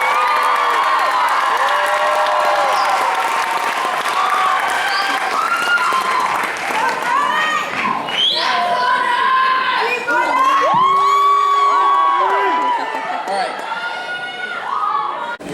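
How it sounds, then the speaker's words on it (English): A school pageant crowd at Mr Nighthawk 2016 erupts in applause, cheers and children's shouts for the top six contestants, a loud continuous roar with whoops rising above the clapping. "Let's give one more round of applause for our top 6."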